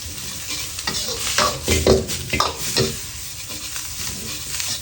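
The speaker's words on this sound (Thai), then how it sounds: "ค่อยๆผัดไป" Pad thai rice noodles with shrimp being stir-fried in a pan, a spatula scraping and tossing in irregular strokes over a soft, steady sizzle, close and without speech.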